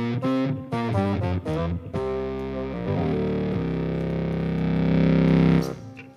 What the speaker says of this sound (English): so this is a distorted sound.